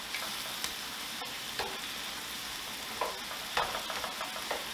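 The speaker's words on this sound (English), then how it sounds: "All right, let's get these shrimp turned over." Shrimp sizzling and frying in a hot pan, with steady crackle and a few sharp clinks and scrapes as the pieces are turned over, close and with no talk.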